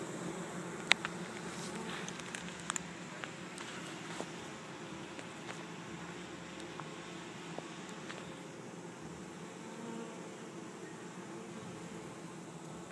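Honey bee swarm in Chico, California buzzing in a continuous, moderately loud drone, with scattered faint ticks and light taps over the hum.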